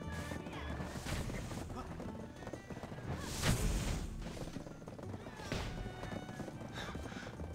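Hooves clatter in a busy horse race in the Black Desert online game, with clip-clop rhythms, whinnies and occasional crashes and thumps mixed with game effects and some talk.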